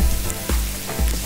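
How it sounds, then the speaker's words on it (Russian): Cabbage frying in vegetable oil in a hot pan, a close sizzle with a few stirring pulses over a low rumble. "Разогреем сковородку с растительным маслом и обжарим капусту"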